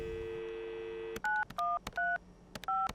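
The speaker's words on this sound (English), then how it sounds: "A phone." A phone dial tone in the video game Adios gives way to a quick run of four touch-tone dialing beeps with clicks between them, clear and close with no talking.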